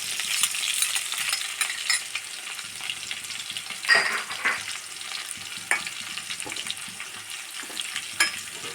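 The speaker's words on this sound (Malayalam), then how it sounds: "വെണ്ടക്കായൊക്കെ നേരിയതായിട്ട് വാടി പിന്നെ അതിൽ ഒരു സൈഡിലാക്കി വെച്ചിട്ട് നമുക്ക് ഇതിൽ കടുകിടാം" Okra and mustard seeds fry in hot oil, giving a steady close sizzle with crackling pops and light stirring scrapes throughout, no voices.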